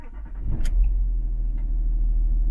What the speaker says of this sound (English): And then what I'm going to do is start the car